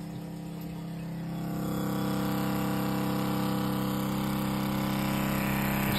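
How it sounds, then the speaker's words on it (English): A softwash pump runs steadily and loudly up close, pushing bleach into a tank, a continuous motorized hum with a mechanical drone that swells slightly after the first second and then holds constant throughout. "probably the best pump we've ever had. This thing is nothing but bleach going through it."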